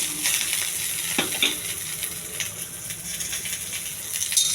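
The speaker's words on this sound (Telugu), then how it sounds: "ఇవన్నీ కొంచెం దోరగా వేగించాలి" Curry leaves fry in a little oil in a pan as a tempering for coriander chutney, giving a steady close hiss with a few sharp pops and crackles and no voices.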